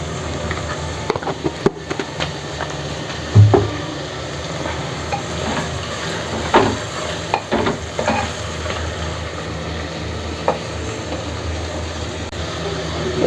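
Chopped onions frying in a pan for a desi-style chicken gravy, a steady sizzle with scraping stir strokes and clinks of the spoon against the pan, close and even throughout.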